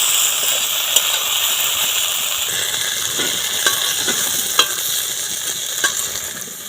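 Spices fry in a hot pan for dahi bhindi, a steady loud sizzle and hiss running throughout, with occasional clinks and scrapes as they are stirred.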